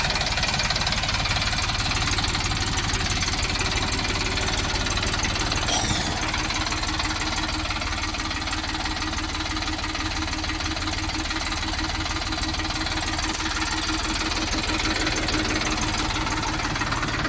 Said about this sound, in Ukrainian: Ось тестується тракторець.